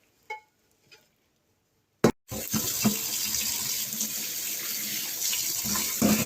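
Cold water runs from a tap over boiled chow mein noodles in a kitchen sink, starting after a few small clicks and knocks and then gushing steadily and fairly loud to the end, with no talk.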